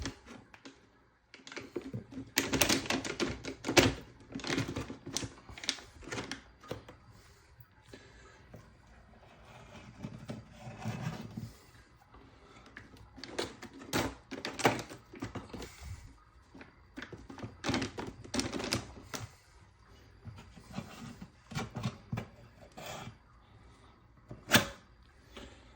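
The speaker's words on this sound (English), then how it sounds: "So just scrape the wax with a putty knife." An old wax ring is scraped off a toilet flange with a putty knife, giving a run of short, close scratching and knocking strokes in irregular bursts, heard alone.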